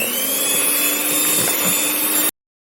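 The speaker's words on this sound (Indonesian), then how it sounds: "Mixer sebentar asal tercampur ya." An electric hand mixer whirs steadily through cheese nastar cookie dough with sifted flour, a loud continuous motor drone with a faint tonal whine that stops abruptly near the end.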